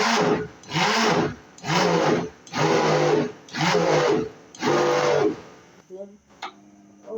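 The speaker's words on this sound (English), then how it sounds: "So it won't be so hard for this blender." A Silver Crest blender runs in six loud bursts of about half a second to a second each, churning a thickening mixture with a steady whirring roar between short pauses, then goes quiet apart from faint clicks.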